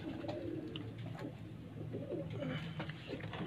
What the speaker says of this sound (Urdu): چیمپئن کبوتروں کے بعد پھر ایک اور چیمپئن کبوتر میں آپ کو دکھانے لگا ہوں